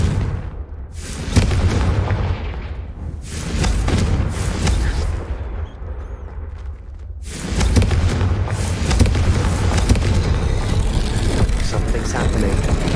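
A Confringo blasting spell goes off in Hogwarts Legacy, a loud booming blast rolling into a sustained rumble with a second burst midway, set against dense game sound.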